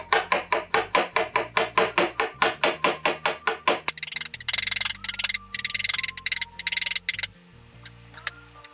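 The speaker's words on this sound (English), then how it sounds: "maybe 2 cloves of shallots. Just roughly mince them" A knife mincing shallots on a cutting board: about seventeen quick, even chops in a steady rhythm for four seconds, followed by quieter, irregular kitchen clatter.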